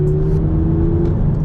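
An Audi TTS pulls hard in third gear, heard as a loud, steady engine drone with a sustained tonal hum and rumble, close and continuous without talk.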